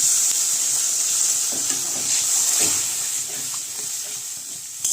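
Warm water hitting a hot pan of katla fish kalia curry gives a steady, bright sizzling hiss with faint stirring scrapes, fading slightly toward the end.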